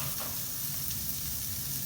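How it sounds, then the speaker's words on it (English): Chopped pancetta sizzling in a hot pan, a steady, fairly quiet crackling hiss that runs evenly throughout with no talking. "you know it's right because you hear it sizzle"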